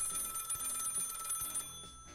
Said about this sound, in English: That phone's never rung before.